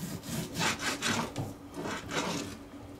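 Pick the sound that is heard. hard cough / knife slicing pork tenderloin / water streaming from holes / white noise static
knife slicing pork tenderloin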